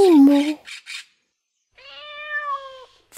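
A cat meows in a drawn-out, close, clear call, with speech and short gaps around it.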